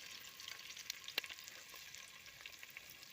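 Onions sizzling and lightly browning in a pan for a beef and tomato stew, a faint steady frying crackle with a few sharper pops, no voices.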